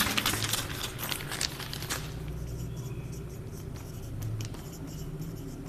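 Chalk or marker writing on a board in a physics lesson, with dense scratchy strokes for the first two seconds, then quieter intermittent taps and a low background hum.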